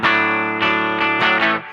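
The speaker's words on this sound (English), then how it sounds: "First, I'll show you just clean. This is just amp sound right here." Sustained clean electric guitar chords ring out straight through an amplifier, a few strums blending into one another with a full, bright tone.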